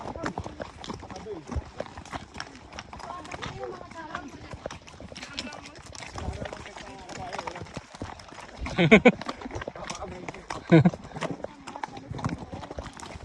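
A horse's hooves clip-clop along a trail near Kaindy Lake in Kazakhstan, a steady rhythmic clopping that runs throughout under people talking nearby.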